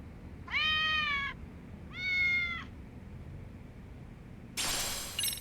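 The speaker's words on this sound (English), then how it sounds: "Oh, cat." Two clear meows from a cat in the video game Lost Judgment, each about a second long, near and alone over a low background hum, followed by a burst of broadband noise.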